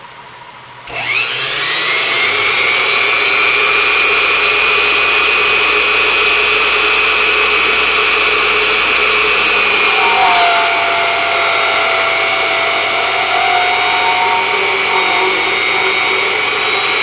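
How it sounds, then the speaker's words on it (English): A Unimat SL1000 mini lathe cuts with a rounded tool that has a 10-degree back rake. It spins up to a steady, loud whine and then drops to a lower tone partway through a long continuous run. "take a ride and take a look"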